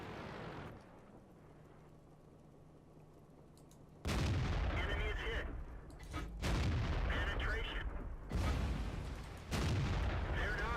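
Heavy tank cannon shots boom in the World of Tanks video game, several loud blasts in sequence after a quieter stretch, with a player talking during the action.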